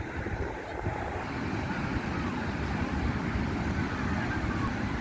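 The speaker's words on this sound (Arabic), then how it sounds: "سمعوا الموج ديال البحر" Sea waves washing onto a beach at sunset, a steady broadband roar with wind buffeting the microphone throughout, continuous and fairly close.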